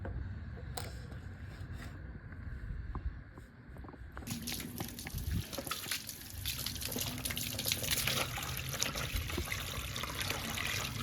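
Tap water starts running in a kitchen while a tomato fish grill is being prepared, a quiet trickle at first that turns into a steadier, fuller stream partway through.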